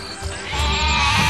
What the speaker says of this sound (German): da ganz hinten ist noch ein Schaf